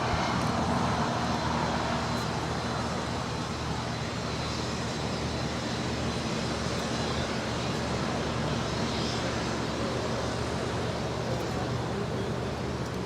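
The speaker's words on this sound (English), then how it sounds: "It's a 777 getting ready for a departure here on the 25s" A Boeing 777 jet readies for departure on LAX's 25 runways, its engines a steady broadband roar with a faint high whine, continuous and fairly distant for the whole stretch.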